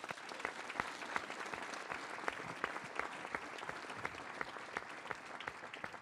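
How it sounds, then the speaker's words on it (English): An audience applauds a state governor with sustained, crisp clapping, individual claps standing out within a steady, moderately distant ovation. "Let's give him a round of applause"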